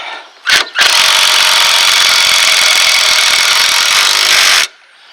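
A power tool whirs loudly and continuously for about four seconds while tightening the front wheel knuckle pinch bolt on a 2000-2008 Ford Focus, after a brief short burst, close and alone.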